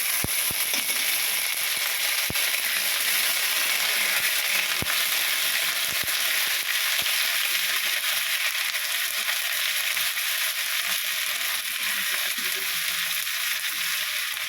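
Ginger goes into crab masala frying in a pan, and a steady, dense sizzle carries through with a few sharp clicks of a spoon. The sizzle is loud and close, and no one talks.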